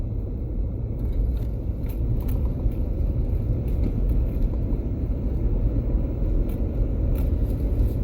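Steady low engine rumble from a vehicle gearing down on a six-degree downgrade in single-lane traffic, continuous and fairly loud, with faint clicks and wind over the drone and no talking.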